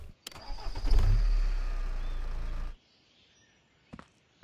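A garbage truck's engine cranks and catches in the Recycling Center Simulator video game, then runs at a steady, fairly loud idle for about two seconds before shutting off into silence, with a couple of faint clicks afterward.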